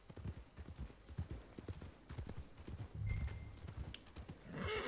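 Horse hooves clip-clop steadily on the ground in Red Dead Redemption 2, a close, even trot with an occasional whinny and a louder rumbling passage near the end.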